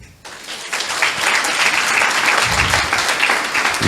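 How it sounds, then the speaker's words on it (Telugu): A congregation at a Christian church meeting breaks into loud, sustained clapping that swells quickly after a quiet start and carries on as a dense, even roar of many hands. "చప్పట్లు కొట్టండి"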